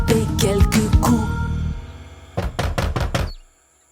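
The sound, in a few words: wolf knocking on a door, animated nursery rhyme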